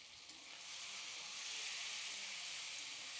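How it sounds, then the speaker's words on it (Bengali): Ground spice paste of ginger, cumin, chili and garlic with turmeric sizzles and fries steadily in hot oil over browned onions for a spicy Bengali shol fish kalia, a continuous bright hiss that swells slightly and holds alone without talk. "পেঁয়াজগুলি ভালো করে ভাজা হয়ে গেছে, এবার মশলা দিয়ে দেব।"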